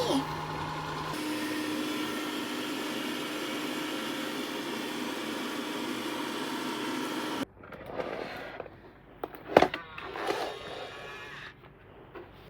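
A vacuum cleaner with a brush head sucks hair off a bedroom floor, a steady loud drone for about seven seconds that then cuts off abruptly, followed by quieter handling noises and a voice.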